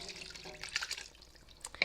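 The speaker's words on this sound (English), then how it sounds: "I'm also going to pour in our chicken broth." Chicken broth, about three cups, poured into a pot of jambalaya: a close, splashing liquid pour in uneven bursts, swelling louder toward the end.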